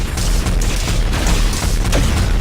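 Fireworks burst in a dense, loud barrage of booms and pops during a Marvel Heroes Omega cosmic trial, a continuous rumbling wall of blasts with sharper cracks scattered through it.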